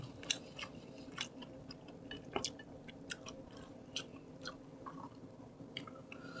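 Close, crisp chewing and crunching while eating braised tofu with rice at a home-style Korean meal, with steady soft bites and occasional sharper crunches repeating throughout and no talk.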